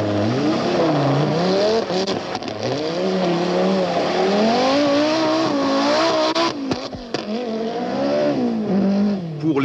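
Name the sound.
Peugeot 205 rally car driving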